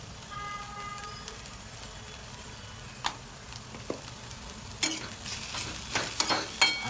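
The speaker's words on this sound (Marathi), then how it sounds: "अशी फ्राय करून घ्यायची भेंडी" Okra fries in a pan with salt and turmeric, a faint sizzle that grows busier near the end as a spoon stirs and scrapes with irregular clattering strokes, no voices present.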